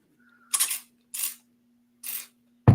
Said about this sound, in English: And it just sprays and mists your seeds in the containers